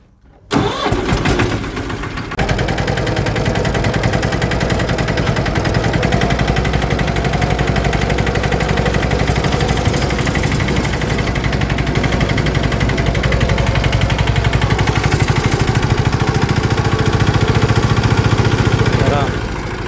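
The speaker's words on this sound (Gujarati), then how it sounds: "હાલો આગળ ટ્રેક્ટર ચાલુ કરીને તમને દેખાડ્યું" A tractor engine cranks and starts after a brief silence, then settles into a steady, loud mechanical idle that chugs on without pause.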